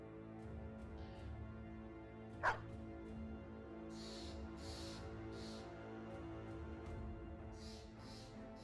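Dogs yip and bark in the medieval strategy game Battle Brothers, several short barks scattered over a low steady backdrop of game music, faint and distant-sounding, one sharp louder hit partway through.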